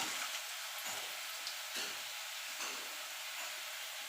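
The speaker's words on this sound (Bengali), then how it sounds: "তেলটা গরম হয়ে গেছে ফোড়নে দিয়ে দেবো তেজপাতা" Bay leaf dropped into hot oil for tempering a cabbage curry, crackling with a steady close hiss and sizzle throughout, with faint pulsing spits and no talking.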